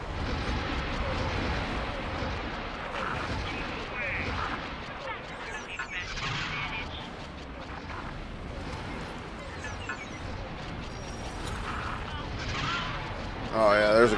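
Ship turrets and missiles fire in X4 with a Star Wars mod, a dense stream of booms, blasts and impacts rolling on continuously under a voice talking throughout.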